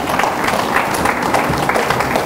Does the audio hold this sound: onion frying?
no